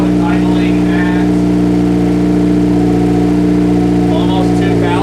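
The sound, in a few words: car engine idling high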